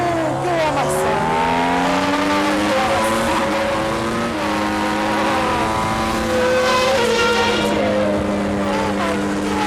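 A car at roughly 170 mph braking late into a chicane on a racetrack, with a loud, close engine roar whose pitch sweeps down and back up through gear changes, continuous for the whole stretch, with an excited voice over it.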